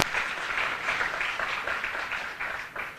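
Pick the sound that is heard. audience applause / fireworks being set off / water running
audience applause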